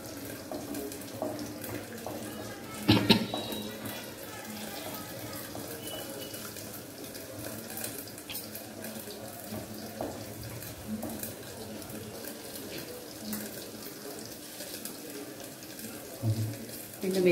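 Mustard seeds and cumin hit hot oil in a kitchen pan, giving a continuous frying crackle with a sharper burst early on, while a person talks over much of it.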